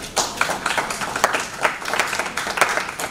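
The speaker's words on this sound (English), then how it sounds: "Let's give a round of applause to our panelists." Conference audience at a renewable energy expo applauds panelists, a modest scattering of distinct claps in quick irregular rhythm, fairly close, with no talk.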